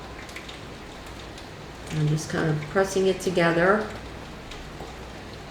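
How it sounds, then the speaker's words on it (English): Heavy rain falls outside as a steady, soft hiss behind a person talking quietly indoors. "it's raining really hard right now"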